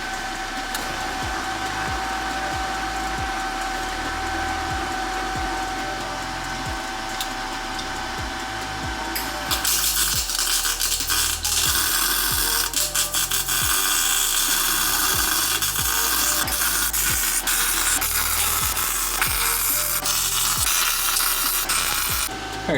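TIG welding of the spider gears to the case of a Mustang rear differential, a steady electric buzz and hiss running throughout, close and loud, getting harsher and brighter about halfway through.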